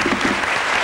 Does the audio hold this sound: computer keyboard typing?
no